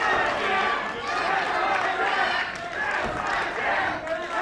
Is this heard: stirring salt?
no